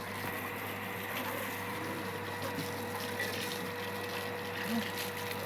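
Water flows steadily from a pipe near a water tank, a continuous rushing wash with a low pump-like hum underneath, even in level and unbroken throughout.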